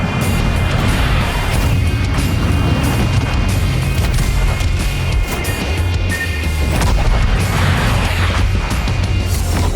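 Twelve 356mm main battery guns of the U.S. Tier X battleship Rhode Island fire in a naval battle game, heavy booming blasts and crashing impacts rolling loud and continuous over a low rumble.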